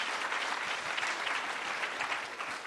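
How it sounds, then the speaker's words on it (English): An audience at a high-level central banking conference applauds its distinguished panel, with steady, dense clapping that fills the hall throughout and no talk over it. "asking everybody to give a warm applause to our distinguished panel"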